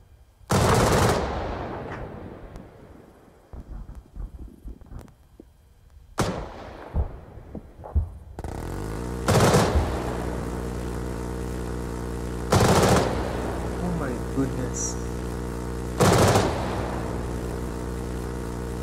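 Bursts of rapid automatic cannon fire from a C-RAM Phalanx CIWS in the Arma 3 war game, several loud sharp volleys separated by quieter rumbling stretches, with a sustained droning hum in the later part.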